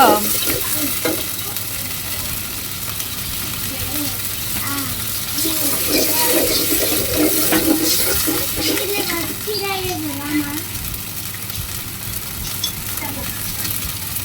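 Spices sizzle in a hot pan as water is added during frying. A continuous loud hiss with stirring noises runs throughout, and faint background voices sound at times.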